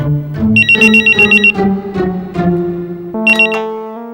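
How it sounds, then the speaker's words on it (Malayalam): A telephone rings loudly and close in a home setting: a repeated electronic warbling ringtone in quick bursts, pausing briefly before another burst starts. No one talks over it. "ആ ഫോണൊന്ന് എടുത്തേ"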